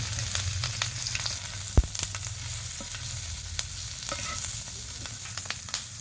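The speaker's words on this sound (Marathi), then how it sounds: "तेल गरम झालंय सगळ्या एकदम मिरच्या घालून द्यायच्या" Green chillies sizzle in hot oil in a pan as a steady, close frying hiss, broken by a few sharp crackles and pops, with no talking.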